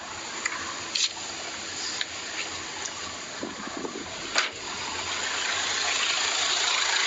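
A used car's engine runs steadily in its engine bay, belts and pulleys turning, a continuous broadband hum with a few faint clicks and knocks, no one talking.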